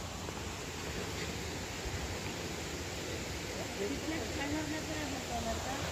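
Broad, steady rushing roar of the waterfall at Apsara Kund in Pachmarhi hill station, loud and continuous throughout, with people talking faintly beneath the water noise.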